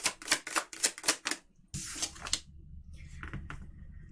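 Tarot cards are shuffled and pulled from the deck in a run of crisp, rapid clicks and flicks close up, followed by a softer rustle and a few scattered taps, with no talking.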